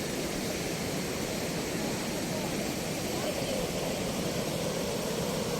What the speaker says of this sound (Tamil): ஆனால் வெள்ளம் பயங்கர ஃபாஸ்ட்டாக இருக்குது. வெள்ளம் ஃபாஸ்ட்டு பயங்கர ஸ்பீடு முக்கியம் இருக்குது பாருங்க.